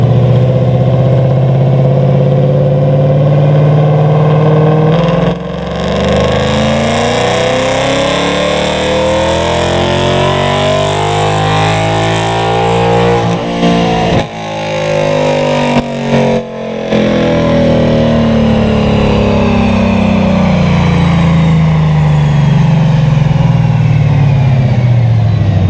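A car engine revs hard through a long dyno tuning pull, its tone sweeping up and back down continuously and loudly with a brief lift in the middle, then climbing again.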